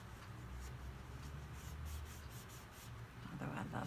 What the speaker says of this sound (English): Clean off my scissors a little bit too.